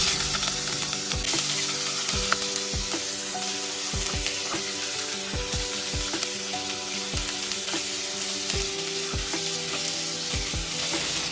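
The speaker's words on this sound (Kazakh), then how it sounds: "Енді етімізді қызып тұрған майда қуырып аламыз" Meat frying in hot oil for a Thai-style warm salad, a dense continuous sizzle with repeated sharp clatters of stirring or a utensil striking the pan, close and loud with no voices.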